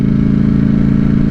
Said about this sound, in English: I love the sound of the stock exhaust.